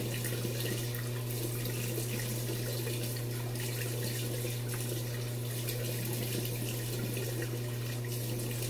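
Cold water runs steadily from a tap into a sink before a straight razor shave, a continuous close hiss and splash with no talk over it.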